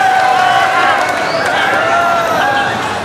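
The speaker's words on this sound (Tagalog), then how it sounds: "Listen to this crowd roar!" A loud, sustained roar from a packed crowd at a boxing fight, a dense, steady wall of cheering and shouting that fills the space without a break.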